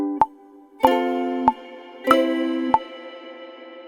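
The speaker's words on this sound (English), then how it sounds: "Let's change it to a studio reverb. This sounds cooler." Plucked ukulele notes and strums, about five, each ringing out in a reverberant studio-reverb wash that lingers between hits.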